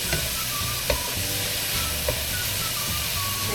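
Onion sizzling steadily in hot oil as it is sautéed for pancit, a constant bright frying hiss with a few soft stirring clinks.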